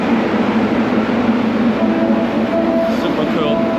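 A metro train rumbles steadily through a Rio de Janeiro subway station, a loud continuous roar with faint tonal whines, and voices are heard faintly amid the noise.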